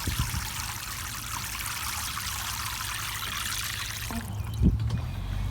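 A small solar-powered bird bath fountain trickles and splashes outdoors, a soft continuous watery patter, ending with a slight change and a brief bump near the close.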